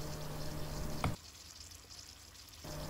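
Garlic cloves and green chillies fry with spoonfuls of mustard paste for a pickle, making a low, soft sizzle. A short clatter cuts in partway through, the frying goes quiet for a moment, and then the sizzle comes back.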